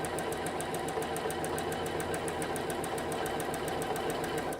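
A domestic sewing machine stitches down the corners of a quilt block, running at a fast, even rhythm with a steady mechanical whir and rapid needle ticking, close and continuous throughout.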